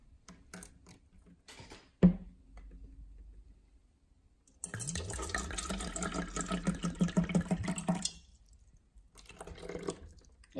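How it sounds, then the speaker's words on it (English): Purified bottled water poured into a small test cup, a steady splashing, gurgling stream lasting a few seconds after a sharp knock and some quiet handling, with no talking. "Let's pour some water in."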